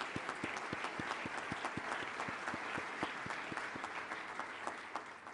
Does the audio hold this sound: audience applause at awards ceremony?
yes